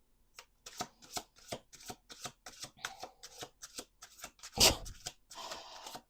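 A deck of cards riffled and bridged in a steady series of quick crackling bursts, ending with a sharper snap and a longer ruffle, close and fairly loud.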